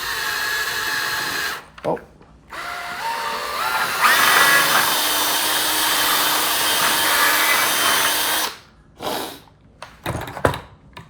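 A power drill with a 3/16-inch bit whirs steadily for several seconds, drilling a hole in a BMW E39 ashtray, its pitch shifting as it bites in, with short knocks and a brief voice before and after.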